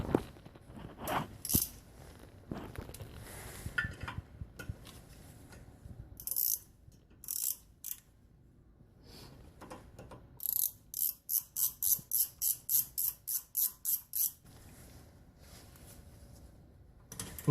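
A ratchet tightens brake caliper bolts on a fifth-generation Camaro, with scattered clanks and handling noises before a quick, even run of close, crisp ratchet clicks.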